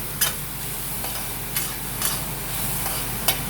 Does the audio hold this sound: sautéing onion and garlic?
yes